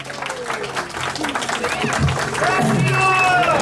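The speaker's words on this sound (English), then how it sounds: "Please give a big round of applause." An audience at an ISKCON temple gathering in Milton, Ontario applauds with dense, sustained clapping, while voices murmur and speak underneath and the sound swells toward the end.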